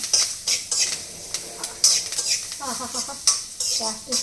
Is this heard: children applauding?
no